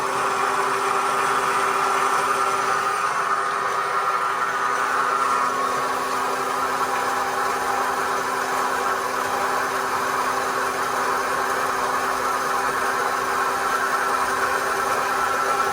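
A Central Machinery metal-cutting bandsaw from Harbor Freight runs freely after assembly, giving a steady continuous motor hum and whir with no cutting, unchanging and alone throughout.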